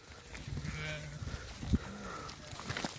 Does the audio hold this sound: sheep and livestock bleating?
yes